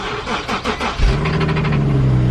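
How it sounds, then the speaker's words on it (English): An Infiniti engine cranks and catches, then settles into a loud, close idle with a rough, rattling exhaust note from a blown-up engine, no talking over it. "Hopefully you can get the exhaust note."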